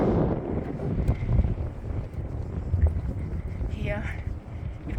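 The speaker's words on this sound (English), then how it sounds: "It's getting very windy here" Strong wind gusting across the open adobe ruins of Chan Chan near Trujillo, Peru, a steady low roar and microphone buffeting throughout, with someone talking over it.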